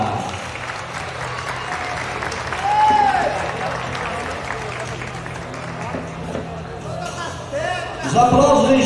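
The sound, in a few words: audience applause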